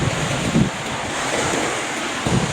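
Black Sea surf rolling onto the Bulgarian coast, a steady wash of breaking waves with wind buffeting the microphone and a few low gusty thumps.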